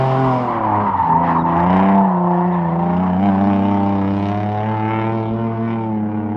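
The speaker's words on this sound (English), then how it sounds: "So this is my 1990 something Mazda Miata." A 1990s Mazda Miata drift car, crash-worn and stripped, drones with a loud, close, steady engine note, its pitch rising and sagging gently as revs shift.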